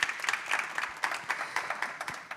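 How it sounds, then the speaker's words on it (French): Lively audience clapping for three panelists at a French-language corporate diversity talk, fairly quiet with distinct individual claps standing out in an uneven rhythm. "S'il vous plaît, un tonnerre d'applaudissements pour nos 3 panélistes."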